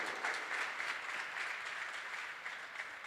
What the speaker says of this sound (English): Can we give Eben a warm round of applause?